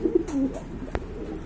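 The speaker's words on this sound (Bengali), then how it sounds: "মাশাআল্লাহ গিয়া চুল্লি কবুতর, অনেকদিন পর দেখলাম" A Chulli pigeon gives a short, low burbling coo up close, followed by a single sharp tap, with no voices.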